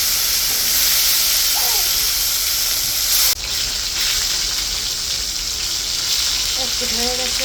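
Sautéing in an oiled pan while cooking chicken, a steady loud sizzle and hiss with a brief clatter partway through, continuing evenly to the end.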